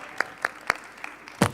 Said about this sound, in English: Can we have a round of applause for all the panelists presented today?